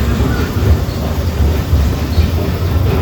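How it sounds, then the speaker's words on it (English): A Disneyland Railroad train, steam locomotive No. 1 C. K. Holliday, rolls loud and close into New Orleans Square Station, a steady rumble of rail cars with faint wheel clatter and no talking. "Please remain seated until the train comes to a complete stop."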